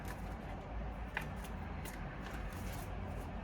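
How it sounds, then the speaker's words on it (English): A deck of cards is shuffled quietly and steadily, a soft continuous riffle with a couple of small snaps and no talking. "I just want to shuffle more"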